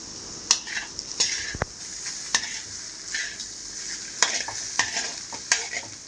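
Egg fried rice sizzles over a high flame as a spatula scrapes and clanks against the pan in irregular strokes, a busy close-up frying hiss with metallic knocks and no speech.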